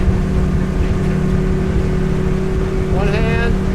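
A 2017 Seahawk Series 1700 boat, about 17 feet, under way at around 28 mph with a Yamaha 50HP outboard, giving a steady loud engine drone with water rush and a brief rising tone near the end.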